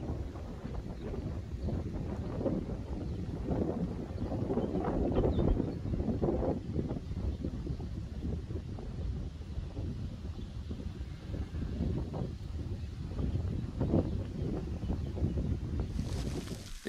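Steady wind during a hailstorm over farm crops buffets the microphone in a continuous low roar, gusting slightly louder at times, with no voices.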